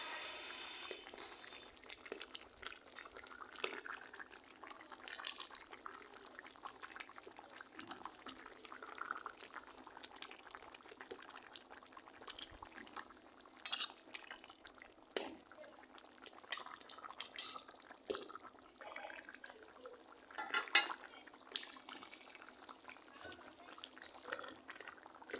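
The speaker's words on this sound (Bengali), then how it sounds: "এখন আমি এই যে তরকারিটা বলক এসে গেছে" A tomato and potato curry with jatka fish simmers at a boil, giving a faint, continuous bubbling and gurgling with soft scattered clinks.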